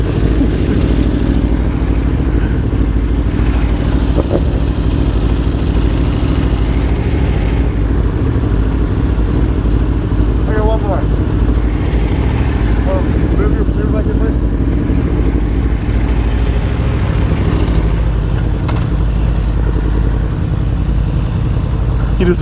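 Motorcycles idle and rev in a rocky cave-like spot near Tucson, a dense, steady engine rumble filling the whole stretch, loud and close, with people talking faintly underneath.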